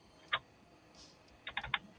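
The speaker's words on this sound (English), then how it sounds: "I'm typing it out" Keystrokes on a computer keyboard: a single click burst, a pause, then a quick run of several taps, fairly close and clear against a quiet room with no talking.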